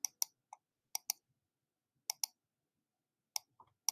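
Crisp, quiet clicks of a computer mouse being right-clicked, mostly in quick pairs with pauses between, close and isolated in a silent room.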